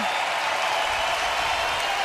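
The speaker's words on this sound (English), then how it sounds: "As the crowd comes alive on their feet to salute both sides." A hockey arena crowd on its feet applauding after a Montreal Canadiens versus Ottawa Senators game, a dense, steady wash of clapping and cheering throughout.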